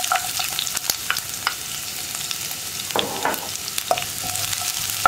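Sliced onion fries in coconut oil while a utensil stirs it, producing a constant close sizzle scattered with sharp scrapes and clicks of the spoon against the pan.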